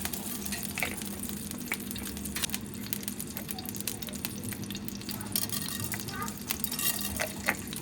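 Mustard seeds and urad dal sizzle and crackle in hot ghee in a pan, a steady close frying hiss with scattered pops running throughout.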